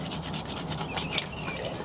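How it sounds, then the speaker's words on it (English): Plastic scraper rubbing and scraping green growth off a boat hull, a close, continuous coarse scratching with no talk. "And then you decided to just buy a little plastic scraper, and that seems to just get it off."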